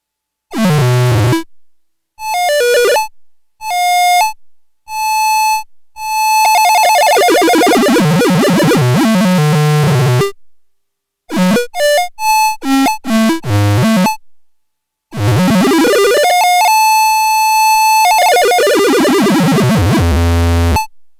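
Eurorack modular synthesizer driven by a DIY touch controller, producing bursts of bright, beeping tones with pitch sweeps and ringing harmonic patterns, separated by short silences; loud and close, with no talking.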